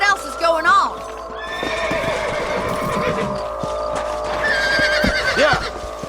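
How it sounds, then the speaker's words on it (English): Horses in the Red Dead Redemption video game whinny loudly and gallop with rhythmic hoofbeats, neighs rising at the start and again near the end, with talk alongside. "Let's get back on the horses and see what else is going on."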